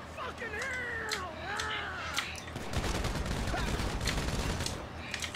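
Gunfire in GTA Online, a burst of rapid shots followed by steady dense firing that fills the second half, with game sounds earlier and a voice talking over it.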